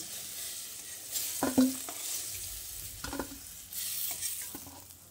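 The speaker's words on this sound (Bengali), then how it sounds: "একটু সময় নিয়ে বেগুনগুলোকে লালচে করে ভেজে নিতে হবে।" Eggplant pieces fry in hot oil while being stirred, giving a continuous sizzle broken by a few scraping stir bursts and crackling surges.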